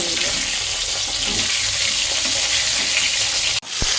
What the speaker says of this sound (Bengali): পটল এখনো ভাজা চলছে